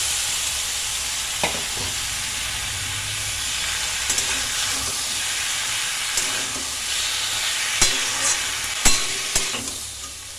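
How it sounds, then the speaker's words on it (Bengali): Boiled Malabar spinach goes into a pan of frying masala and is stirred. Steady close sizzling hiss runs throughout, with a few sharp scrapes and knocks from the spoon against the pan. "এর মধ্যে আমি সিদ্ধ করা পুঁইশাকটাকে ঢেলে দিচ্ছি।"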